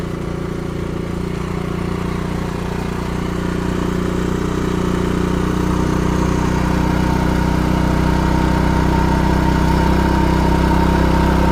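A Dnipro-M GX-30iG inverter petrol/gas generator runs under a 2 kW heater load, giving a loud, steady, close engine drone that holds even throughout, with no voices.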